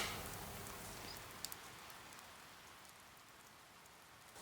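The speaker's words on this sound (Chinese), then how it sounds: "我们在这边听雨声" Steady rain falls outdoors, a soft even patter that holds throughout, quiet and calm with no voices.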